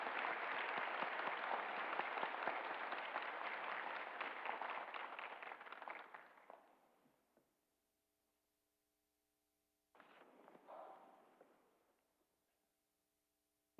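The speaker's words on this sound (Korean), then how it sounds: "우리 다 함께 박수로 환영하도록 하겠습니다." Church congregation applauding at a Sunday service to welcome newcomers: dense sustained clapping for about seven seconds that fades out, then after a pause a shorter second burst of clapping.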